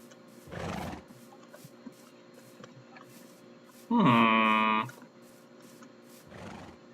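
A horse in a video game gives one loud, close whinny midway, with softer snorts or hoof sounds before and after over a quiet background hum.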